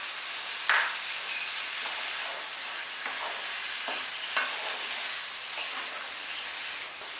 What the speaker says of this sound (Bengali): মশলাটা আমি 2-3 মিনিট খুব ভালোভাবে কষে নিলাম।